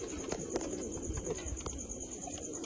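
Andhra pigeons coo softly in a loft, with repeated low throaty calls and a few light rustles against a steady background hum.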